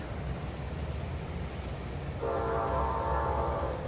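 A CSX freight train rumbles past at a steady, close roar, and its horn joins in partway through, sounding a sustained blast over the rolling noise.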